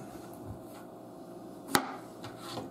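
A kitchen knife chopping fresh zucchini on a cutting board for a short-rib vegetable soup, a few sparse cuts with one sharp, close thunk standing out against quiet background hum.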